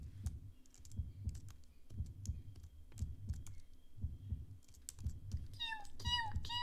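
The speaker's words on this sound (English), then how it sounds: "I love it when music is the sound of my heart beating" Heartbeat-like music in the video game Manhunt, a soft, regular low double-thump pulsing steadily, joined near the end by higher chirping tones.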